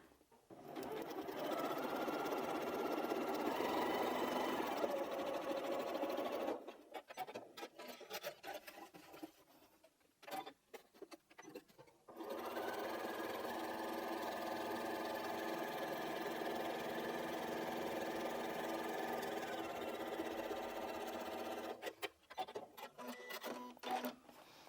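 A sewing machine stitches quilt pieces in two long, steady whirring runs, each several seconds long. Brief pauses with small clicks and handling noise separate the runs, and a short final burst comes near the end.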